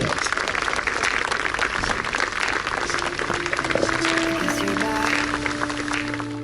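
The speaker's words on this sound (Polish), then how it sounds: "Dajcie wielkie brawa dla Mateusza, żeby usłyszał nas w niebie!" Sustained crowd applause at a drifting event fills the air as a dense, steady wash, while music with held tones rises underneath toward the end.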